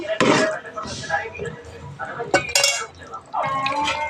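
A spoon scrapes and clinks around a pot of curry leaf kuzhambu sweetened with jaggery, in a few short stirring strokes under a person talking.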